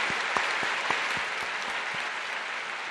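A church congregation applauds, hands clapping steadily, with a few louder individual claps standing out at the start.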